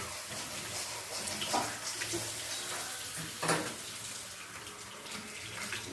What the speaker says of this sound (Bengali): ওভাবে কল চালিয়ে জল খেয়ে নেয়।